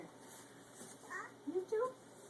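A kitten meows softly a couple of times, brief rising calls close by at low volume, with no talking over them.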